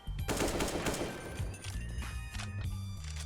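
Rapid gunfire in GTA San Andreas played in CS:GO, a dense burst of loud shots packed together through the clip with a few heavier thuds, and no talk over it.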